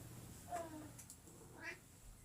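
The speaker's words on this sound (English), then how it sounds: "Cat interruption right off the bat." A pet cat meows faintly indoors, giving two soft, brief cries about a second apart over quiet room noise.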